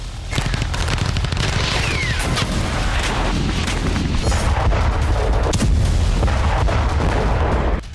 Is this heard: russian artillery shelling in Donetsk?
yes